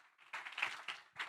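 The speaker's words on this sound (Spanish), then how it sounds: "dar un aplauso al Señor." A few people clap for the Lord at a church service, giving a brief, sparse patter of hand claps in a quiet room.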